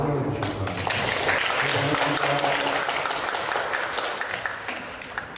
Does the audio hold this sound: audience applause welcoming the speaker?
yes